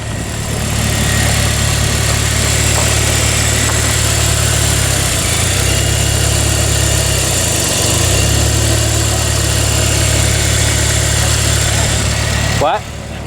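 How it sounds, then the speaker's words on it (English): A high-mileage Pontiac Vibe GT engine idles close by with a steady, smooth hum and low vibration, holding even throughout before a brief shift near the end. "Nice, smooth as butter idle."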